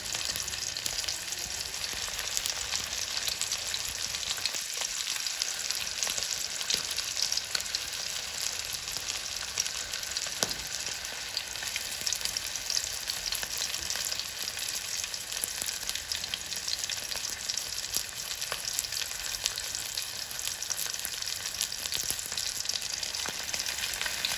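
Fish frying in hot oil, a continuous bright sizzle and crackle that stays steady and close for the whole stretch, with a few soft bumps and no voices.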